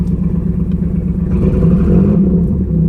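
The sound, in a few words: 1991 Pontiac Firebird engine accelerating with hesitation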